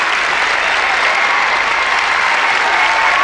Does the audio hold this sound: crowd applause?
yes